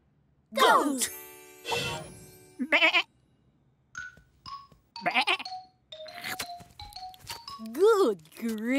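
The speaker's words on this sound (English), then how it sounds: "Goat!" Several high, wavering bleats from a cartoon goat, in short separated bursts, close and loud, with a cartoonish, playful quality.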